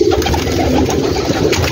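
Pigeons coo steadily on a large rooftop loft in Gujranwala holding around 2000 birds. Several soft, throaty coos overlap up close, loud and continuous, with no talking.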